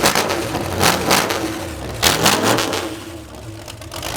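A Dodge Challenger with a sticky throttle, its engine revving in several rough surges that rise and fall, close and loud, with a muffled rumble between bursts.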